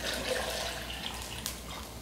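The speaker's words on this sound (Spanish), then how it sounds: "Y también le vamos a poner lo que es la cebolla, el ajo. Y lo vamos a cubrir con agua." Water is poured into a blender jar over onion and garlic, a soft steady splash and trickle lasting about two seconds, fairly quiet with no talking.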